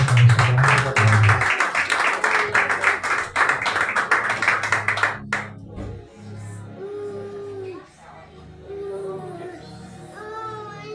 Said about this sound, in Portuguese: Você aplaudiu o Senhor, irmão? Só aplaude ele.